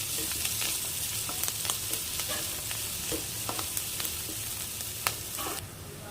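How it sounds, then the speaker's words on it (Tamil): Onions with curry leaves and salt sauté in a pan, giving a steady close sizzle with scattered scrapes and taps of a spoon stirring them, and no voices. "வெங்காயத்தை நல்லா வதக்கி எடுத்துக்கலாம்"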